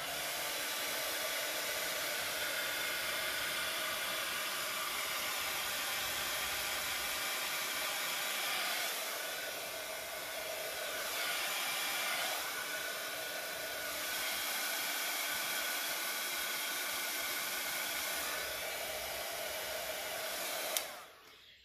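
A hair dryer blows steadily with a constant airy whoosh close by, drying alcohol ink under a lifted glass, its tone shifting slightly as it moves, with no talking.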